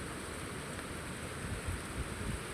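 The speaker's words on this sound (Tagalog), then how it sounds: "ulan na naman" Steady rain falls outdoors under palm trees, a dense broadband hiss with soft wind rumble and a few low gusts, heard alone without talk.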